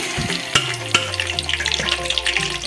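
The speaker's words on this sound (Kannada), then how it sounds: "ಹಾಗೆ 1 ಚಮಚ ಬೆಣ್ಣೆ ಹಾಕ್ಕೊಳ್ಳಿ." A spoonful of butter crackles and sizzles as it melts into hot oil in a pan while palak paneer is being made, a steady close frying hiss with a few sharp pops and utensil knocks.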